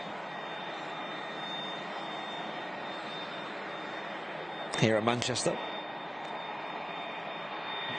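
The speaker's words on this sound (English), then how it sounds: "CF6 engines on board this A330-300" An Airbus A330-300 with CF6 engines at Manchester Airport roars steadily as a broad, constant jet drone throughout, with a brief burst of a voice talking over it midway.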